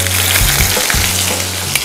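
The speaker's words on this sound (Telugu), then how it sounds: "ఇక్కడ ఆయిల్ వేడెక్కిపోయింది, ఇందులో మనం ఈ ఉల్లిపాయ పేస్ట్ వేసుకుందాం మెల్లిగా" Onion paste sizzles as it hits hot oil in a pan, a loud continuous frying hiss with a few low thumps and bubbling bursts, with no voices.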